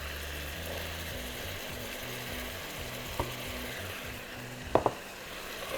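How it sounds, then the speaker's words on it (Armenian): Chinese pilaf being stirred in a pan, a steady frying sizzle running throughout with a couple of brief clinks of the spoon against the pan near the end, close and without voices. "Մի հատ լավ խառնում եմ։"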